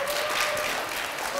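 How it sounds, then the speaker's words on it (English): Brief, steady wash of applause from a school audience clapping for their teachers during a science show, dense and even throughout. "so give them a little round of applause."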